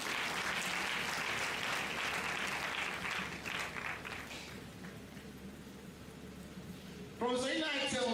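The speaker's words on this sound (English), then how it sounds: "A hand of applause, please." Clapping from the audience at a university inaugural lecture fills the hall, strong at first and then thinning out, before a voice starts speaking over the tail.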